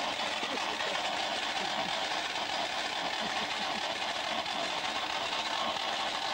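A Volkswagen V6 car engine with 12 valves idles steadily, a continuous close rumble with a faint knocking texture at a constant level, no distinct start-up heard.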